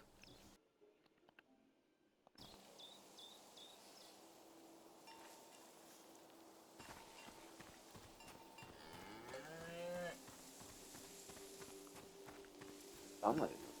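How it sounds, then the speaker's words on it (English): A cow lows in a video game, heard amid steady ambient game sound and occasional footsteps, with a brief louder call near the end. "A beautiful cow named Gorp."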